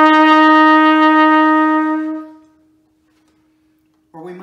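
A single trumpet note is held steadily and loud in an orchestral style, then fades out into silence before someone starts talking.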